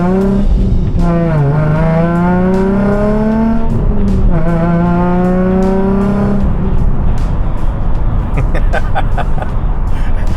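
Nissan 350Z project car built in Tokyo Drift style: a loud, close engine revving hard through rising gears with shifts, then a rough burbling roar mixed with tire squeal, and no talking.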